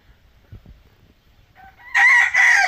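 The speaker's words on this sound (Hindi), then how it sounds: "अभी इसने बांग दी है" A rooster crows in a Jharkhand village, a single loud, close cock-a-doodle-doo in two strained bursts, following a few quiet scattered thumps in the background.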